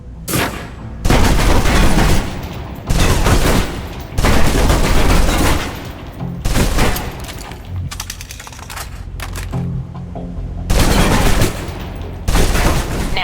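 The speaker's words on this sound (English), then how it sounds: "Now, let's move on to the submachine gun. Now let's empty the clip." A submachine gun empties full magazines on a firing range in the Alpha Protocol video game, loud rapid automatic bursts of about two seconds each, repeated several times with short gaps between them.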